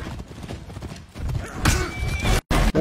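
Horse hooves clip-clop in a video game, a quick rhythmic trot heard up close and moderately loud, with a brief whinny-like sound and no talking.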